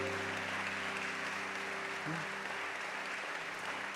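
A church congregation applauds loudly and steadily during a service, with dense sustained clapping over a low hum of sound-system tones and a faint voice.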